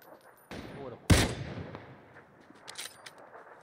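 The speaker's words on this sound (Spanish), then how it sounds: "Estoy escuchando balazos enseguida de ti" Gunfire in an online shooter game: one loud burst near the middle, then faint distant shots, with people chatting quietly over it.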